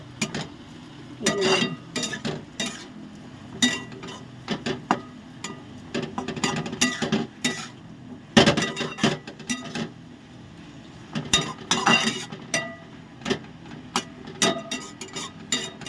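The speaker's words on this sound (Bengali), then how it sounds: "এরপর আমি এটাকে শাকটাকে পুরো মেশাবো।" Water spinach being tossed with salt, turmeric and sugar in a pan, with repeated clinks and scrapes of a utensil against the metal in irregular bursts, close up and moderately loud, with no one talking.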